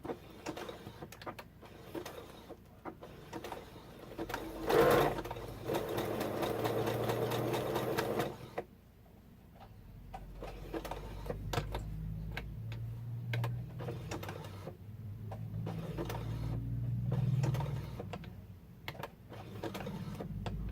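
A sewing machine zigzag-stitching around a fabric postcard, running in a fast, steady mechanical whir with ticking, pausing briefly, then continuing at a moderate level close by.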